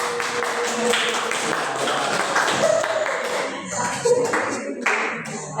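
Hand clapping in a school classroom, a group clapping in a quick, uneven pattern with sharp taps and short breaks, fairly close and moderately loud.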